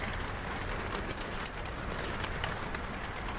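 Soft, steady cooing of pigeons on a rooftop over a continuous hiss of background noise, faint and fairly distant.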